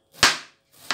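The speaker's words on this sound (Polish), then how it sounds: "Ja akurat nie mam, więc sobie nożem poszatkuję." Knife chopping young cabbage on a cutting board in a home kitchen: two sharp, crisp strikes, the first with a longer scraping tail, alone and close.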